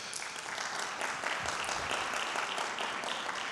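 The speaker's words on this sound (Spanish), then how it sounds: "Por favor, un fuerte aplauso para él." Sustained applause from a conference audience at a medical congress in Colombia welcomes a doctor to the stage, a steady wash of many hands clapping at moderate distance without a break.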